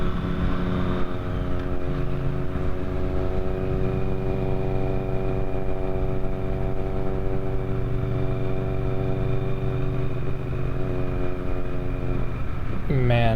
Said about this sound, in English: I should have waited in the back of the pack so I didn't have to listen to that exhaust this whole time